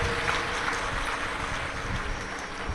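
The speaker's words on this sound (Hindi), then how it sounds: "एक बार जोरदार ताली बजाकर" Applause from a large crowd at a live Shiv Mahapuran katha gathering in Madhya Pradesh, a dense continuous clapping roar that holds evenly through the moment.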